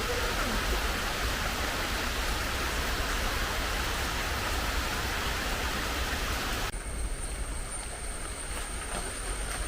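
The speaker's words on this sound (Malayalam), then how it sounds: "മഴ വരുന്നുണ്ട്" Heavy rain falling as a dense, loud, continuous hiss that fills the whole stretch, easing slightly toward the end.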